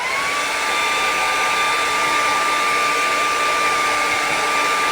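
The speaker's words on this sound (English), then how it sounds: "we're going to put this down for a minute and hit it with the blow dryer" A blow dryer runs steadily and loudly on a craft piece at a crafting table, its constant whirring airflow with a high whine holding for the whole stretch with no talk.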